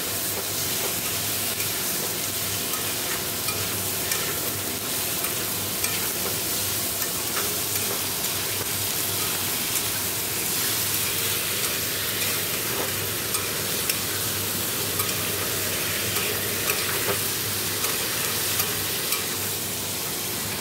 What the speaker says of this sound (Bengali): এবার ভালো করে কষে নিয়ে জল দিয়ে দেবো।